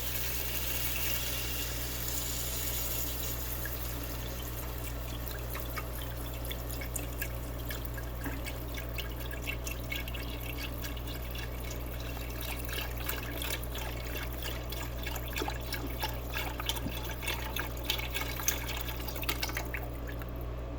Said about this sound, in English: pour the rest of our chicken stock in there